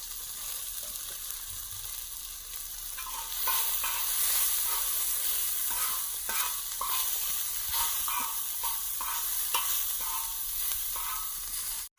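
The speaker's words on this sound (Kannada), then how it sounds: "ಮಸಾಲೆ ಚೆನ್ನಾಗಿ ಫ್ರೈ ಆಗಿದೆ." Masala of chili powder, coriander powder, garam masala and salt fries in a pan for masala egg idli, a steady loud sizzle with intermittent scraping stirs, close and continuous, no talking.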